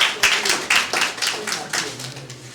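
A church congregation at a Sunday service claps together, with steady rhythmic hand claps at about two per second and faint voices underneath.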